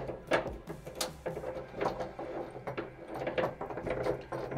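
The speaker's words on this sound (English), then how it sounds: "I'm just gonna finger tighten these initially." Bolts are threaded by hand onto a Tacoma camper shell, making a close, quiet series of clicks, ticks and soft metallic scrapes in an uneven rhythm, with no one talking.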